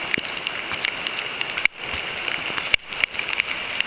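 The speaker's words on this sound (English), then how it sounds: "It's really raining right now." Steady rain patters on a surface nearby during a horseback ride, a continuous hiss broken by a few sharper clicks and knocks.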